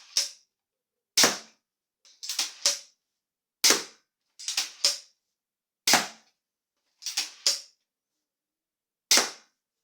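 A rapid fire tactical crossbow shoots in quick succession, giving sharp, loud, close snapping shots, some single and some in tight pairs or triples, separated by silence.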